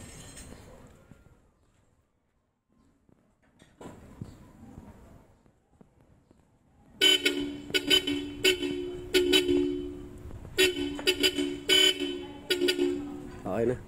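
After quieter moments with faint talk, a Bosch Europa car horn on a Honda BR-V honks repeatedly in short and longer blasts, close by.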